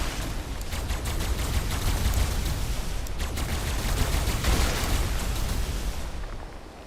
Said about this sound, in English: Tech rifle is a really good raiding weapon, as you can tell.